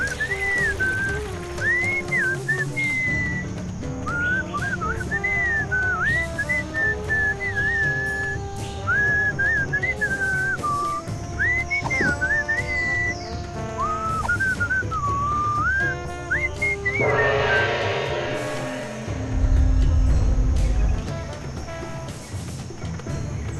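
A lilting, melodic whistled tune in the adventure game Sam & Max, bright and wavering over steady rain-like patter, ending with a swelling noisy burst and low rumble.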